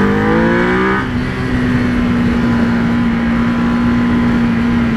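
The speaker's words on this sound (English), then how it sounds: "I love that V-twin. Love that V-twin grumble." A 2017 EBR 1190RX sport bike's V-twin engine grumbles loud and close, a revving rise in the first second settling into a steady, throbbing idle hum.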